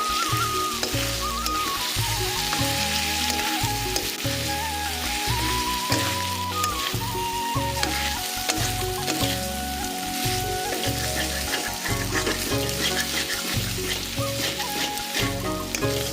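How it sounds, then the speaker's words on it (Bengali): Gugli snails and potatoes, already fried, sizzle loudly and steadily as they are sautéed in masala, with a tonal musical backdrop running underneath throughout. "ভেজে রাখা ওই যে গুগলি বা গিঁড়ি আর আলু সব এগুলো দিয়ে দিচ্ছি দিয়ে আরও কিছুক্ষণ আমরা খুব ভালোভাবে কষিয়ে নেব"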